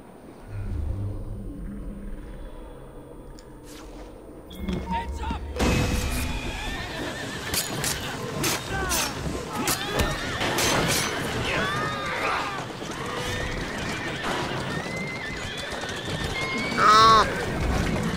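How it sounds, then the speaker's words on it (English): In Assassin's Creed Syndicate, set in Victorian London, a horse whinnies and snorts amid clopping hooves, wagon rumble and street ambience, with a loud neigh near the end and a person talking over it. "Who's a good horse?"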